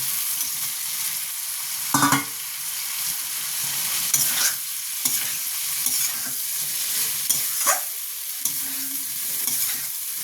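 Fish pieces fry in hot oil in a pan alongside boiled potatoes, with a steady close sizzle and occasional sharp crackles and scraping stirs.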